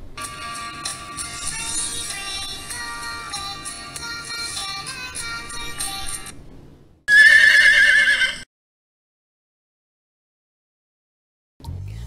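A horse in a storm lets out a loud, shrill neigh in one sharp burst, following a stretch of steady tonal background sound and then abrupt silence.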